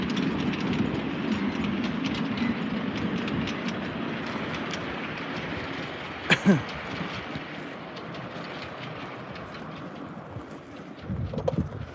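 A 5-inch gauge miniature railway locomotive, an LT20, rumbles steadily along the track at Brent House Railway with wind buffeting the microphone, a brief sharp squeal midway, and voices faintly audible at times.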